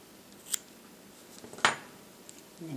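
Scissors snip off the yarn end of a chunky crochet scarf with a quick, sharp metallic cut, preceded by a faint click and followed by light handling noises, close and quiet.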